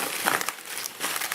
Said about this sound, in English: The only real option is to just carefully start unwrapping it and carefully cutting it away.